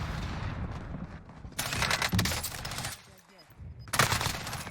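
Rapid automatic gunfire from a Black Ops Cold War Warzone tournament match, loud bursts of sustained firing in several stretches separated by a brief lull, with a sharp burst near the end.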